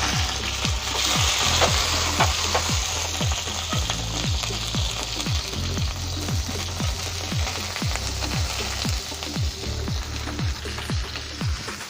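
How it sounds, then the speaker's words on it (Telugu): Eggplant pieces frying in hot oil give a steady crackling sizzle, punctuated by repeated sharp scraping clicks of stirring, close up. "కోసుకున్న వంకాయల్ని ఇలా నూనెలో వేసేసుకోవాలండి."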